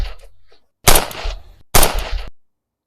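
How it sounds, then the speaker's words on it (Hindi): Gunfire sound effect in a Hindi horror thriller audio drama: two sharp, loud gunshot-like bursts about a second apart, each with a short roaring decay, standing alone with no voices. "4 गोलियां,"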